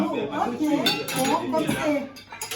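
Cutlery and dishes clink and clatter as a table is set for a Christmas Eve dinner, with spoons and forks laid out in a busy, close series of light metallic chinks. Voices murmur underneath.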